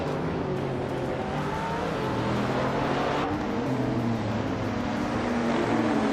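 Race cars in a video game race at Autodromo de Franciacorta roar continuously with a dense, loud engine drone, rising and falling pitch sweeps as cars shift and pass, with no talking.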